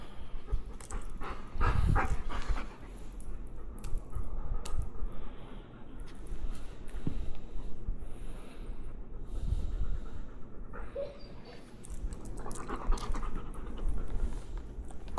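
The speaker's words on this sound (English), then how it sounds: "stress panting, stress yawn." A stressed, anxious dog pants close by over a long stretch, its breathing mixed with clinks, scuffs and handling noises.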